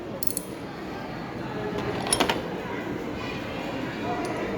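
A ratchet wrench from a socket set clicks as it is turned, giving small metallic ticks in brief clusters over a steady background hiss.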